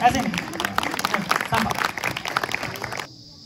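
A crowd at a Gandhi and Shastri Jayanti celebration claps in a dense, uneven burst of applause, fairly loud and close, before it cuts off abruptly into near silence.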